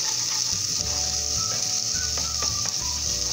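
Garlic sizzles loudly in a hot pan for Peruvian olluquito con carne, a dense continuous crackle with a spoon scraping and stirring through it in short strokes.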